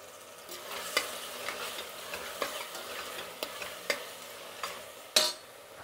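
Ginger, garlic and masala frying in a pan for Karnataka menthe bath, a steady soft sizzle with scattered clicks of stirring and one louder scrape near the end, no voices.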